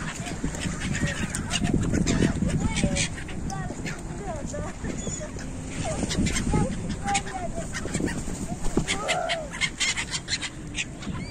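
Seagulls by the seafront in Yalta in winter let out repeated squawking, honking calls close to the microphone, scattered over background hubbub with voices talking.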